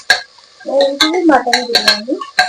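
Onions go into a pot of goat trotter soup, with sharp metal spoon clinks against the pot spaced irregularly throughout, close and fairly loud, while a person talks over them.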